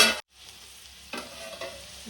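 Tomatoes dropped into a hot frying pan of oil with salt, chili powder and ginger-garlic paste, followed by stirring and a steady close sizzle, with a brief silent gap after the first burst.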